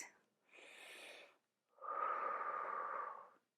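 Slow, controlled breathing during a Pilates reformer spinal twist: a short inhale, then a longer, steady exhale, close and quiet with no talking.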